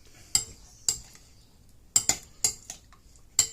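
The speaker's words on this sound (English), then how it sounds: "Take a spoon here. Just want to mix everything through." A spoon mixing salmon in a marinade in a bowl: a handful of bright metallic clinks and taps at uneven intervals, close and clear, against a quiet background.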